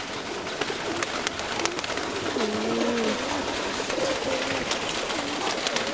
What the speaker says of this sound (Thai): กินกันให้ว่อนเลย นกพิราบสีสวยเนี่ย